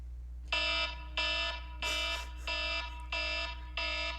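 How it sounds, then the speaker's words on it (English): Electronic alarm sound effect, six evenly spaced, loud buzzing beeps with short gaps between, alone over a steady low hum. "Sound the alarm."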